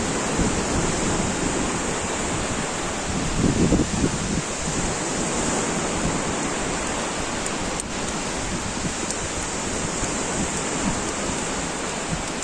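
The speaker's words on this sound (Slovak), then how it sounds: "dosť to fúka vietor" Constant wind roaring across a microphone by the shore in Mallorca, with a broad wash of surf beneath; steady and loud, no talking.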